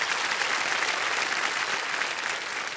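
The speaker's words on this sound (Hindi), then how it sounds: "आप दोनों का एक बार जोरदार तालियां बजाएं।" A studio audience on the TV quiz show Kaun Banega Crorepati (KBC) gives loud, dense, sustained applause that stays even throughout.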